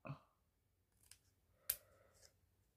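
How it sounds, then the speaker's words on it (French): Scissors cut straight across paper while crafting an A6 easel desk calendar, giving a few short, crisp snips separated by pauses, quiet and close. "on va venir couper tout droit ici"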